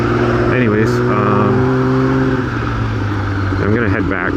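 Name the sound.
loud car passing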